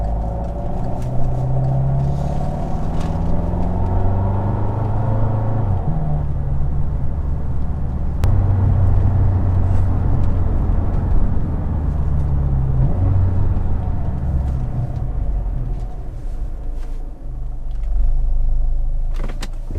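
A 2012-2018 VW GLI MK6 coasts slowly through a turn after brake bedding on new pads and rotors, a steady low road rumble and cabin hum with a faint tonal whine rising and falling, no voices.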